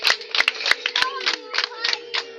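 Scattered claps from a wedding audience, a few sharp separate hand claps over a steady background hum with faint voices, sparse rather than full applause.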